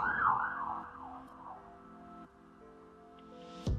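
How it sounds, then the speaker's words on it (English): A police car siren wails past outside a home, faint and distant, its pitch sweeping up and down before fading, with a brief clatter at the end. "The police driving by."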